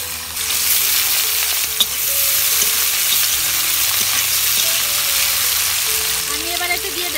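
Potatoes fry in hot oil in a kadai for a vegetarian chowmein, giving a loud, continuous sizzle with stirring scrapes throughout, close up and without talk.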